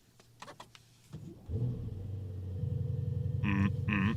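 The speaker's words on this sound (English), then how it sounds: "We'll be starting it up in 3, 2, 1, full brake." A 2024 Mercedes S930 Brabus with a 930 hp V8 cranks and fires up, settling into a loud, close idle before two sharp revs near the end; faint clicks come before the start.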